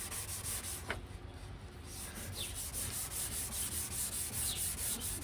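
A yellowed plastic headlight lens is sanded by hand with fine grit, a faint, steady back-and-forth rubbing in even strokes, close up with no talking.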